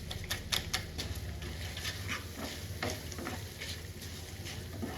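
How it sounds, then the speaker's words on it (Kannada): A spoon scrapes and stirs MTR puliyogare mix with jaggery into tamarind poha in a pan, producing rapid light taps and a soft steady sizzle, close and fairly quiet. "ಇದಕ್ಕೆ ಈಗ MTR ಪುಳಿಯೋಗರೆ ಮಿಕ್ಸ್ ಮಾಡೋಣ."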